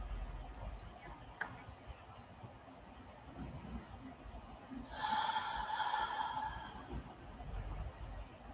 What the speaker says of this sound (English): I take a deep breath in